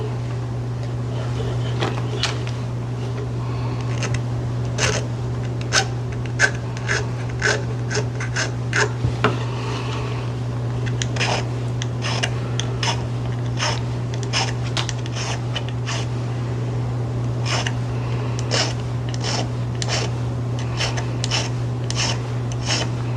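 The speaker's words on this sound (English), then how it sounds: "then I will just start with my filing" A hand file rasps along the edge of a metal bezel-style necklace piece in repeated short strokes, steady and close, over a constant low background hum.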